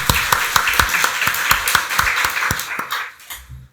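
A church congregation at a Sunday worship service claps together in a steady rhythmic burst of applause, loud and close, with no talk, fading out at the end.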